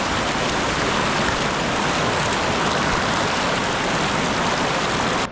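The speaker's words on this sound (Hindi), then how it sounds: "और नदी की आवाज़ बहुत तेज़ आ रही होगी आप लोगों को." The Ganga river near Dehradun rushing loudly, with a dense, steady roar of flowing water that fills the whole clip at constant volume, with no voices.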